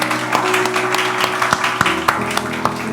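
A church congregation at a Sunday worship service applauds loudly to welcome first-time visitors, with steady dense clapping and a few sharper claps standing out throughout.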